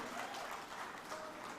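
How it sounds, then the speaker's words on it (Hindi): Audience applause at a grand TV news channel launch event, steady dense clapping filling the whole short stretch at moderate level. "और चलिए जोरदार तालियां हो ग्रोवर साहब के लिए।"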